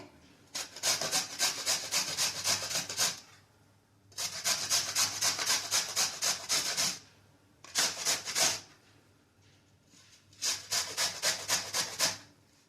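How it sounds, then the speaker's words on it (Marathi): Raw green mango being grated on a coconut grater, quick rhythmic scraping strokes in four separate bursts with short pauses between, close and clear with no talk. "आता ही कैरी मी किसून घेणार आहे. आपली नेहमीची जी किसणी असते खोबरं किसायची त्यांनीच किसायचं आहे."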